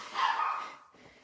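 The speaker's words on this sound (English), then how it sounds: "And naturally now Ezzy is going to bark." A single short dog bark sounds indoors at moderate distance, followed by a faint softer trailing yip.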